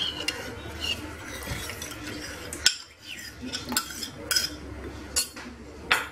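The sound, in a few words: stirring hasswa soup in a pot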